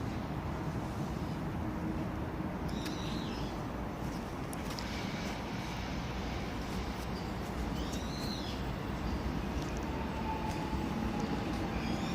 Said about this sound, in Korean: The train bound for Cheongnyeonggi is now approaching.